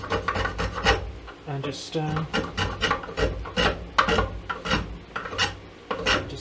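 Small hand planer shaving wood during guitar building, a series of rough rasping strokes repeating at a steady rhythm, close and fairly loud, with a brief spoken word over it.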